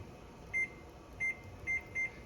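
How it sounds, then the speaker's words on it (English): A kitchen timer beeps four times, short bright tones at uneven intervals, with a faint hum of a kitchen in the background. "let me set the timer for the wrong time."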